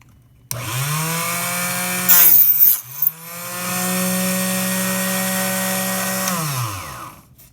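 Brass rifle case, a .308 being cut down to .300 Savage length, under a steady saw or rotary cutting whine that runs for several seconds, briefly breaks with louder scraping, then resumes as one sustained tone before stopping.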